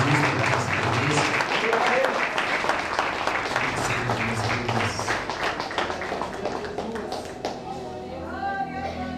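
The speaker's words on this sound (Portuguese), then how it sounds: "Você pode aplaudir Jesus, em nome do Senhor Jesus." A church congregation applauds in a hall, a dense, steady patter of many hands that thins toward the end while someone speaks over it.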